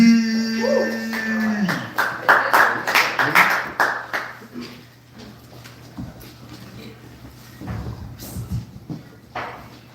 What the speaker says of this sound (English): Could y'all clap it up for Brian D.